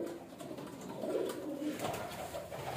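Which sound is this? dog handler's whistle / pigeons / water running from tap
pigeons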